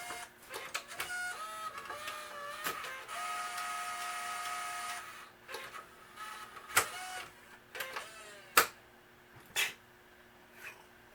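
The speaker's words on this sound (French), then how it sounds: "Probablement que le mécanisme a de la misère à se déplacer." A CD changer mechanism strains to move, giving whirring motor tones and grinding buzz punctuated by sharp mechanical clicks and clunks, close-up and quiet with no talking.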